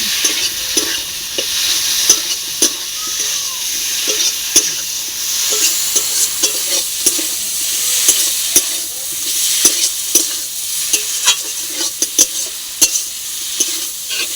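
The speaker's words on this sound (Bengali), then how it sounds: "এবার আলুটা আর মশলাটা একসাথে কষিয়ে নেব।" Fried potatoes and spices for a fish egg curry sizzle in a pan, with a constant hiss under regular, sharp spatula scrapes and clacks against the pan. No voices.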